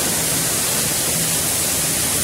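Steady broadband roar of a waterfall at the end of a short, steep trail in the Barra Progresso area near Diamantino, continuous and fairly loud with no voices.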